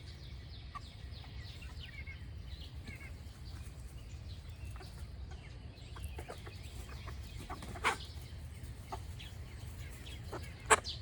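Backyard chickens cluck quietly in a garden on a morning. Their low, scattered calls sit over a steady outdoor hum, with a couple of sharper squawks standing out.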